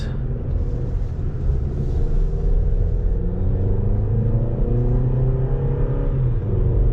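A 2020 Toyota RAV4 TRD Off Road's inline-4 engine pulls under acceleration, a loud, steady rumbling drone heard from inside the cabin with rising harmonic tones and no talking.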